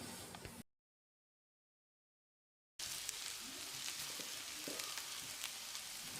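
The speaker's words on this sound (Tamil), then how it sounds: "வெங்காயத்தை நல்லா பொன்னிறமாக வதக்கணும்." Chopped shallots with curry leaves sizzle and fry in a pan for a street-style goat intestine fry, a steady close crackle that cuts out briefly then resumes loudly.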